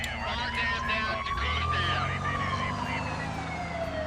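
A wailing siren in the video game SimCity 4 sweeps up and down continuously, loud and close, over a steady engine drone and background rumble.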